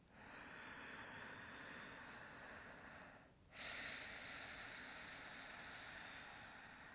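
Long, steady ujjayi breath drawn through a constricted throat during a hatha yoga session, a soft ocean-like hiss that runs continuously, dips briefly for a turn between breaths, then swells again, close and alone.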